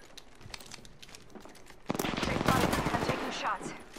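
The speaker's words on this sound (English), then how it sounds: "Putting lead down range." Video game gunfire comes as a rapid automatic burst that starts abruptly partway through and runs loud and dense for over a second before easing off. Faint game sounds come before it.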